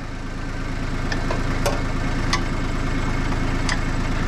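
A tractor engine idles steadily, a low rhythmic chugging throb with faint mechanical ticks, close and continuous with no talk over it.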